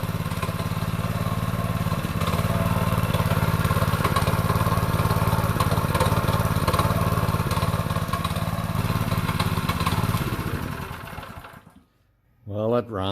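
A freshly repaired small engine runs steadily at a loud, even idle for about ten seconds, then cuts out abruptly and goes quiet with a brief rattle at the end.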